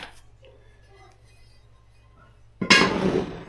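Metal baking pans are set down after bread baking, giving a sudden loud clattering clank near the end after a mostly quiet stretch with faint handling noises.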